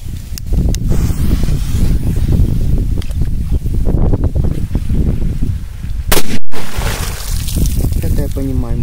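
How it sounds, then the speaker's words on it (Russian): A sharp, loud explosive bang from a Super Banger firecracker set off at a river cuts through outdoor wind noise, followed by a brief crackle, with people talking faintly around it. "Так, пора взрывать еще что-то мощное."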